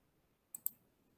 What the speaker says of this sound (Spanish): Entonces, voy a dar clic aquí.